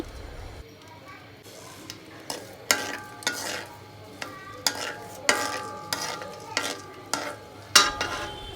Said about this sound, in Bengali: এর মধ্যে দিয়ে দিচ্ছি এলাচ দারচিনি তেজপাতা অল্প পরিমাণে এবং কিছু রসুন টুকরা করা দিয়ে দিলাম